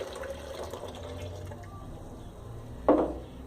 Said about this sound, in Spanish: Una vez escurrido se le agrega el agua.